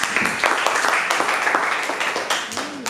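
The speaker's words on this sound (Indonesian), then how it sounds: "tepuk tangan untuk Joshua." Classroom of students clapping for a classmate, a loud, close burst of many hands in quick overlapping claps, continuing steadily and tapering slightly, with a faint voice near the end.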